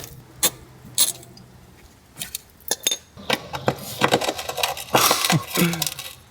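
A socket wrench loosens rusty bolts on an Integra GSR: a few sparse metallic clinks first, then a denser run of close ratcheting clicks and scraping metal-on-metal knocks.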